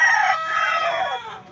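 A rooster crows a loud, close, drawn-out call that fades near the end, on a flock of chickens raised on a small farm, heard alone with no talk.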